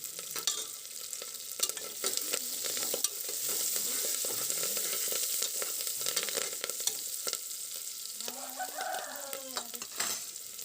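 Onions, green chillies and curry leaves fry in a pan with a constant crackling sizzle and repeated stirring scrapes, while a rooster crows in the background near the end.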